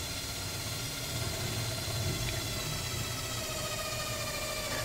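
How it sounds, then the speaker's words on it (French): A steady, even background hiss and low hum of a workshop heater running continuously, fairly faint, with no voices. "Si vous entendez un peu de bruit en fond, c'est simplement le chauffage de BBL"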